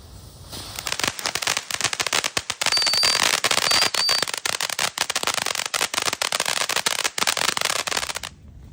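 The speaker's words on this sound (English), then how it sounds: "One of the most essential items in your camping trip is Firecrackers." A long string of firecrackers at a winter campsite pops and crackles in rapid, dense bursts for several seconds, loud and sharp, then stops abruptly.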